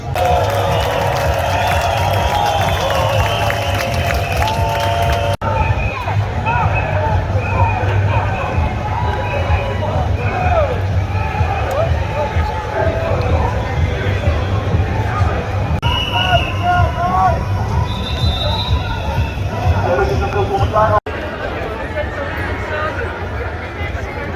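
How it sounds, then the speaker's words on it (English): A huge crowd of protesters, some 250,000 people, pours in at a demonstration in Amsterdam against vaccination. Loud, continuous babble mixes with cheering and scattered applause, with voices prominent throughout. "And in come the crowds."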